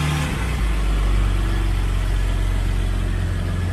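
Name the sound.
naturally aspirated six-cylinder GT car engine idling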